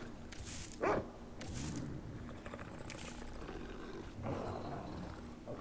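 A hostile dog in Resident Evil 4 Remake growls and barks in short bursts, moderately near, over a dim game ambience.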